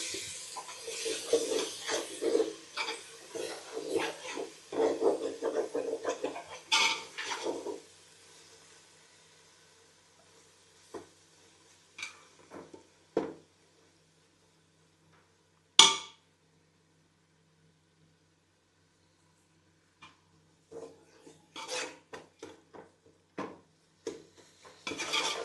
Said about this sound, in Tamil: இதை நல்லா மிக்ஸ் பண்ணிடலாம்